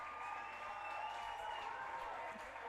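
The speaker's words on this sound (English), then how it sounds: "the crowd erupts from Maryville, takes the lead 1-0." Crowd noise swells steadily at a high school girls' soccer championship as Maryville scores to go up 1-0, a dense, sustained roar of cheering with a faint tone running through it and no talk heard.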